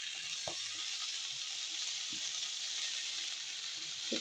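Tomatoes frying in masala in a pan, a steady close hiss of sizzling with a few soft clicks, no voices.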